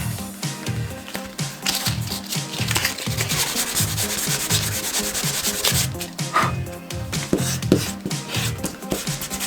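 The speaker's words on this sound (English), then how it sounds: "let's get the sandpaper out." Sandpaper rubbed back and forth over the edge of a leather wallet piece in a home workshop, a steady rapid scratchy rasping that continues throughout at close range with no talk.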